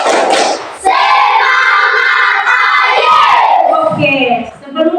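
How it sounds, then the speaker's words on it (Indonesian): Schoolchildren in a classroom chant and clap a spirit cheer together, loud and close, with rhythmic group voices, a brief clap-like burst at the start and a rising shout near the end. "Tepuk semangat."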